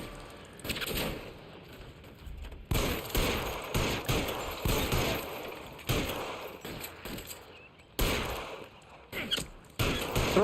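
Gunfire in the video game L.A. Noire, bursts of rapid shots and fusillades coming in clusters across the clip, loud and close with brief pauses between volleys.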